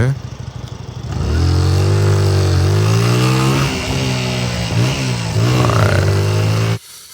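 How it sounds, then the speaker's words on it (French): A motorcycle engine revs hard and climbs in pitch, holding a loud, steady roar for several seconds before cutting off abruptly. "la moto accélère très fort"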